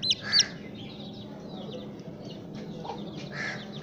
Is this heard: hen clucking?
yes